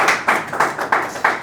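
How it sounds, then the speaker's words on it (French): A few evenly spaced claps, about five sharp slaps in a steady rhythm, close and loud, with no voices. "On applaudit."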